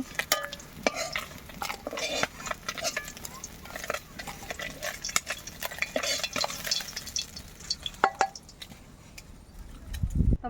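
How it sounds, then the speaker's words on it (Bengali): Fried fish for a mango sour fish curry is lifted out of a hot oil pan with a metal utensil: a soft sizzle runs under repeated sharp scrapes and clinks against the pan. "তো আমার মাছগুলো ভাজা হয়ে গেছে এখন নামিয়ে রাখবো"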